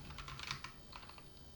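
Quick, light typing on a computer keyboard, with a steady patter of soft keystrokes that are faint and close, and no talking over them.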